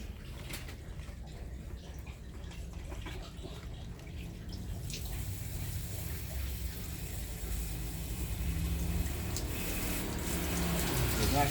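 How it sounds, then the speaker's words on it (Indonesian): Steady splashing and pouring water while watering newly planted Aglaonema, a continuous broadband wash that grows a little louder over time, like watering from a hose or can. "Nah, kita siram."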